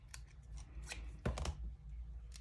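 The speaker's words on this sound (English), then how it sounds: "I'm gonna cut some of this white off." Scissors cutting white paper for a planner layout, several quick close snips in a short, uneven series, quiet and alone with no talk.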